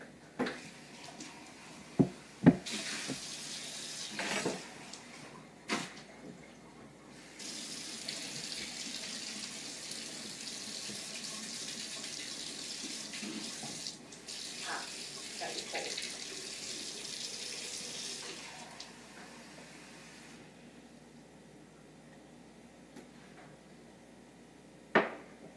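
Tap water running into a measuring cup while baking cupcakes, a steady faint splashing stream lasting several seconds between occasional clinks, with quiet talk around it.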